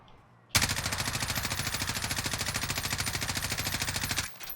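Sustained automatic gunfire from a weapon fired without recoil control in the game Warzone, a rapid, even stream of loud shots lasting about four seconds before stopping abruptly.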